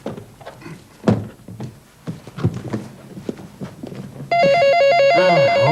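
An electronic telephone ring starts abruptly and trills steadily at close range after a stretch of footsteps, knocks and small household thumps.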